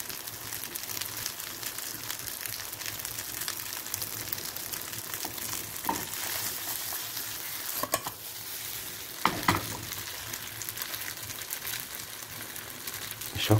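Onion frying in a pan, a steady, even sizzle with soft stirring scrapes and a few louder clinks of a utensil, continuous throughout with no talk.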